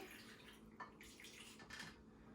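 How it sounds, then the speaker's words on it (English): Faint liquid pouring and splashing as beef broth is poured through a funnel into a canning jar, with a couple of brief gurgling surges, quiet and close. "I'm just going to pour the beef broth in"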